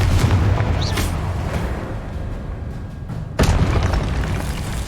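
Deep booming blasts from the Confringo explosion curse in a Harry Potter video game roll under a constant low rumble, with one sharp burst standing out near the end.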